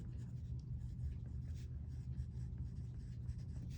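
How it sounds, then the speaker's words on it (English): Steady scratching of a pen or marker writing by hand on a surface during a statistics lesson, continuous and close with no talking. "So I'm going to write here"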